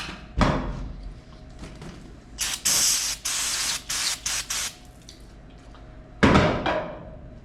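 Water sprays in short, forceful bursts at a 1930 Ford Model A engine part, several in a row with pauses between, close and loud against metal.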